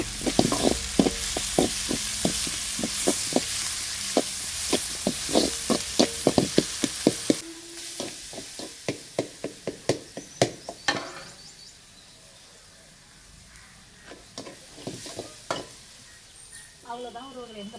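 Greens gathered in the countryside are sautéed and stirred in a pan over a rural cookstove. A steady sizzle runs under sharp, rhythmic scraping and clacking strokes, which thin out to scattered taps near the end.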